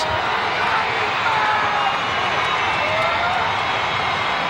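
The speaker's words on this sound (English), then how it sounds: "Crowd really getting into this game now" Crowd noise at a high school football championship game between Leilehua and St. Louis, a broad continuous roar of cheering from a large stadium audience, steady and fairly loud, with a commentator's voice over it.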